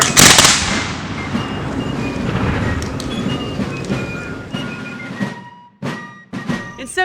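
A 17th–18th century musket fires with a sharp, loud blast that fades into a long rumbling echo, followed by a few scattered clicks and knocks.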